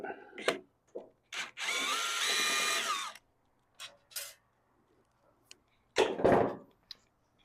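A power drill unscrews screws from an EG4 12000 XP inverter in short whirring bursts, one long sustained run, then brief clicks and a final burst, close up and alone.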